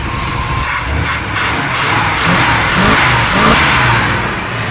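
A carbureted 454 Vortec V8 revs and runs steadily on a stand with no coolant, a loud continuous engine drone rising and falling slightly in pitch throughout.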